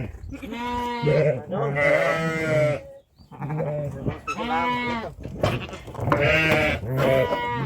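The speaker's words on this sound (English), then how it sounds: "Ewes." Cheviot sheep ewes bleat close by in a series of loud, wavering calls, several voices overlapping with only brief pauses between the bursts.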